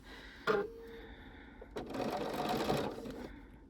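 A sewing machine stitches English paper piecing patchwork in two bursts, a short run followed by a longer steady whirring run, close and moderately loud with no talk.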